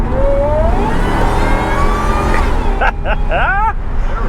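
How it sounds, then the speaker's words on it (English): A loud supercharged engine in a cheap Ford Harley-Davidson truck revs hard and steadily up close, its supercharger whine rising in pitch, with voices talking underneath. "his supercharger is very loud"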